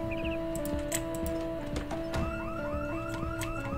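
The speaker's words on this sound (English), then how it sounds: "The car alarm just went off for some reason." A car alarm in the zombie survival video game Project Zomboid wails in a repeating rising electronic tone, moderately loud over game background noise and clicking keys.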